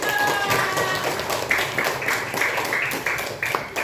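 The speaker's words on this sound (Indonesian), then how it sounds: "Hebat ya, tepuk tangan." Classroom applause from students, a dense patter of clapping at fairly close range with a few sharper claps standing out and a brief tone early on.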